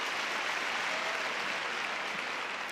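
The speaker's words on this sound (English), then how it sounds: "More prolonged applause for Kamil and Pavel Kovalev." An arena crowd at the 2022 ISU World Figure Skating Championships in Montpellier claps steadily in a dense, even wash of prolonged applause with no breaks.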